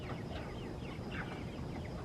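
Chickens cluck softly and repeatedly in a grassy outdoor pen, several faint overlapping calls over a constant low background with no talking.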